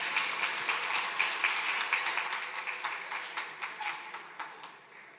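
Audience applause greets a singer's entrance at a stage performance, a steady wash of many hands clapping that holds moderately loud and then gradually fades toward the end, with no talk over it.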